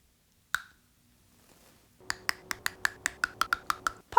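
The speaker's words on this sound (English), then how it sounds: "Pocken, or Pocky, is the sound that a Pocky makes when you eat it." Crisp snaps of green tea Pocky biscuit sticks being bitten, one sharp crack followed after a pause by a quick run of about a dozen close, dry snaps.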